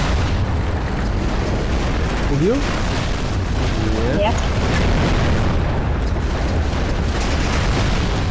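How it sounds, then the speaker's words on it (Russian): Tank shots in the video game Garry's Mod: a dense, continuous roar of loud booming explosions filling the whole stretch, with someone speaking briefly over it. "Представляете, как они взрывами меня откидывают?"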